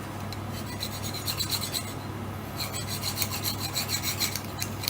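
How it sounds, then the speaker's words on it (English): A steel knife is drawn repeatedly through a plastic sharpener, giving a steady run of close, rasping scrape strokes in a rhythmic pattern with no talking. "steel sharpened with plastic."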